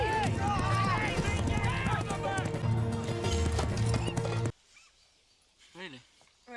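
Horse hooves clip-clopping at a run through a busy market, loud and rhythmic under music and other noise, then cutting off abruptly into near silence with a short whinny-like cry.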